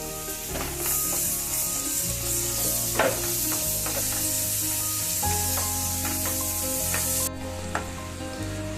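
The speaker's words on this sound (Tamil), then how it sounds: "பட்டர்ல நல்லா வதக்கிக்குங்க" Steady sizzling of finely chopped mushrooms sautéing in butter in a pan, with occasional scrapes and stirs, continuous and close, with music playing underneath.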